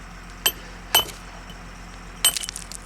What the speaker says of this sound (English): Turn the chisel sideways.